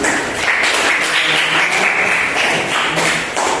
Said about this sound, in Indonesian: Iya, kita berikan aplaus